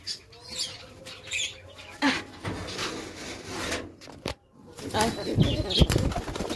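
A pet pigeon flaps its wings in bursts while being handled and moved toward a cage, with wooden rubbing and shuffling noises close by and occasional faint voices.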